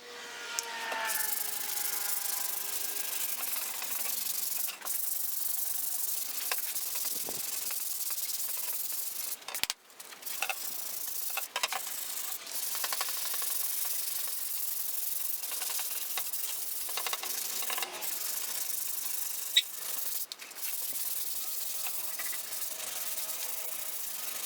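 A skateboard deck being hand-sanded with 100 grit sandpaper, a steady, close scratchy rubbing that continues throughout with brief pauses and quieter strokes, no talk.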